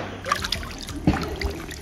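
Warm thermal water of the Aguascalientes hot spring river near Roboré, Bolivia, trickles and splashes close by in a soft, uneven burble with small splashes, with no talking.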